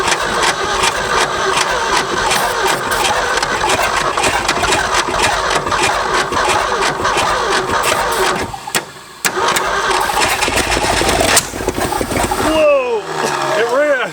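Abandoned Ford F250 truck engine cranking, catching and running with a loud, rough, continuous roar, briefly dropping out before revving back up, with people talking and exclaiming over it.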